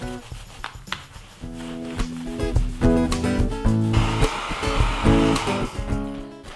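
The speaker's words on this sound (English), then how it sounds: "I like to use a hair dryer to speed up the drying process." A hair dryer roars with a steady airy blast and motor hum, drying paint on paper, joined by clattering and tonal humming noises.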